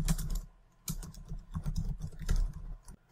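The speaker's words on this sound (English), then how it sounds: "I'll just type in something to start this out." Quiet keystrokes on a computer keyboard while entering text in Microsoft Word, tapping in a loose, uneven rhythm of soft clicks with a few louder presses, close by.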